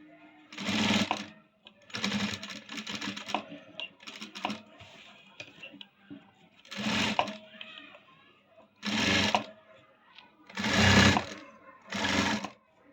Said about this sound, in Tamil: தையல் போட்டு ஒன் சைடு போட்டு முடிச்சிட்டோங்க